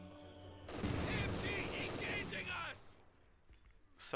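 An MG42 machine gun in the World War II strategy game Company of Heroes 2 rattles out a sustained burst of rapid fire, loud and dense, then cuts off and leaves a quieter tail of distant battle noise.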